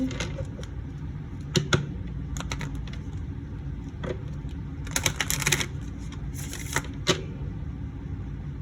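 A Moonology oracle card deck being shuffled by hand, with soft riffling and brisk card flicks in several short bursts over a quiet room background.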